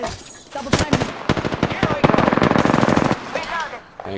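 Rapid automatic fire from Wraith's weapon in Apex Legends, loud close bursts crackling for several seconds with brief pauses and game effects around them.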